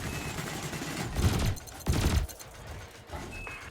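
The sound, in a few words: cannon and laser fire in Elite Dangerous video game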